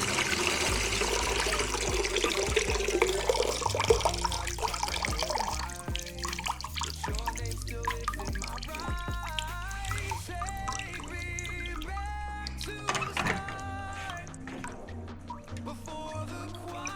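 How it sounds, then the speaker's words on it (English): Water drains from a Beko washer-dryer drum through the pump cover, starting as a gushing trickle, then thinning to scattered close drips and splashes into a container, with no talk. "Using the drain section, we can empty the water."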